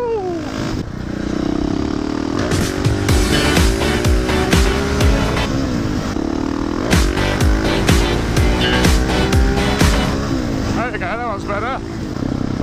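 A loud 701 motorcycle exhaust runs steadily at close range, with repeated sharp pops and crackles over a rough engine drone, revving in waves during a wheelie run.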